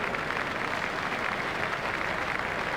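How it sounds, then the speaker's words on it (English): A cricket crowd at a Test match between India and South Africa gives a standing ovation, dense continuous applause and clapping from a large stadium audience, steady and fairly distant throughout. "He's getting a standing ovation from this excellent crowd."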